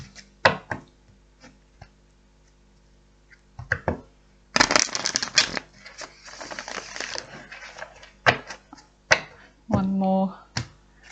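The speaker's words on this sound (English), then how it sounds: "One more shuffle and that's it." Several sharp bursts of tarot cards being riffled and shuffled, with quieter clicks and rustles between them; a brief voice sounds near the end.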